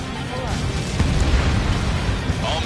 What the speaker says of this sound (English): Bunker buster away.